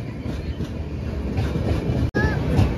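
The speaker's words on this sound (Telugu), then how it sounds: "17487 Tirumala express Srikalahasti railway station కి చేరుకుందనమాట" The Tirumala Express runs on rails near Srikalahasti with a loud, steady rumble and wheel clatter, a brief squeal, and a sharp momentary break near the end.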